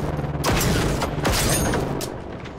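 Several loud, rumbling explosions go off in quick succession in the video game Generation Zero, each blast a deep boom followed by a fading roar.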